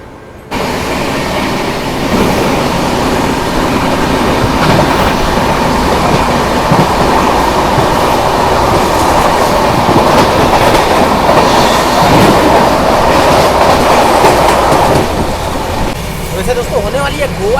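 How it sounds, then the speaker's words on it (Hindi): The Goa Express thunders past alongside the Swarna Jayanti SF Express on a cold morning, a loud, sustained roar of rolling wheels with rhythmic clickety-clack over rail joints, heard close from the train. "होने वाली है गोवा एक्सप्रेस की क्रॉसिंग, तो आइए इस क्रॉसिंग को देखते हैं।"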